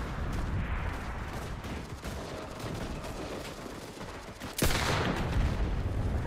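Gunfire in the World War II shooter Enlisted, with a shotgun among the weapons: a dense, distant crackle of shots and battle noise, then a loud close blast partway through.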